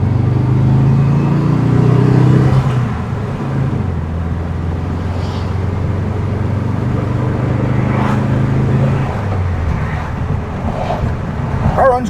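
A 1975 VW Beetle engine hums and rumbles steadily from inside the car, with the pitch shifting as it changes speed and faint road noise throughout.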